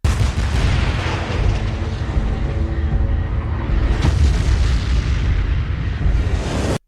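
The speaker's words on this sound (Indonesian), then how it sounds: "pasukan JSDC yang melancarkan tembakan untuk memancing Honju ke titik tembak" A loud, continuous roar of anime artillery fire, booming blasts blending into a dense, rumbling barrage that holds steady before stopping abruptly.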